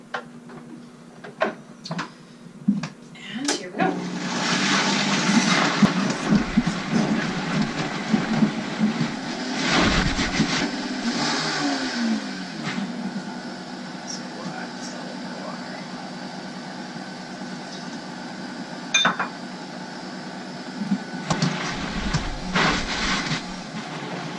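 A blender whipping avocado feta dip: a loud, whirring motor roar that surges from a few seconds in and runs about eight seconds, then settles to a lower drone, with lid clicks and clatter before and after.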